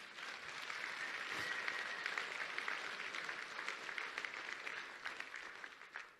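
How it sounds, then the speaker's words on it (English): An audience at the Contact in the Desert conference gives another round of applause, a fairly faint, distant wash of many hands clapping that swells, holds, then thins toward the end. "Give him another round of applause."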